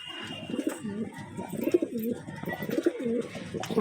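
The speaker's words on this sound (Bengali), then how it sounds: "পায়রাটা ছেড়ে দেবো" A pigeon coos close by in a series of soft, rolling throaty calls repeating at a steady pace, with faint ambient noise around it.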